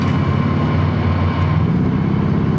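A helicopter in a video game thrums loudly and steadily nearby, its rotor and engine drone holding a constant, dense roar for a couple of seconds with no voices over it.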